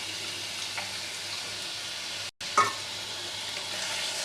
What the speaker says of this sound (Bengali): মশলা যাতে লেগে না যায় কড়াইয়ে, ওই জন্য আমি একটু চিকেন স্টকটা দিলাম